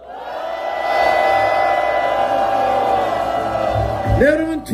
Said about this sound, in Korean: 함성 3초간 시작.